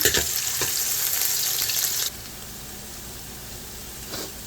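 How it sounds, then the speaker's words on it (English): Onions and peppers fry in a pan with a loud, close, steady sizzle that drops abruptly to a quieter hiss about halfway through. "I'm going to allow this to fry and get brown, and then I'm going to add my garlic to this."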